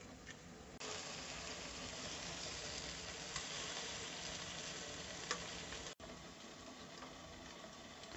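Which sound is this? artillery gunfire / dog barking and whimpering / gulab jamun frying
gulab jamun frying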